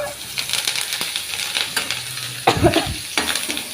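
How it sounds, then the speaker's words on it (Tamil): Mustard seeds, asafoetida and curry leaves crackle in hot tempering oil, a close, busy sizzle with sharp spits and a brief louder burst of popping midway. "இப்போ ஒரு தாளிப்பு போட்டுக்கலாம் ஊற்றிக்கலாம் கடுகு போட்டுக்கலாம் பெருங்காயம் போட்டுக்கலாம் கருவேப்பிலை போட்டுக்கலாம்"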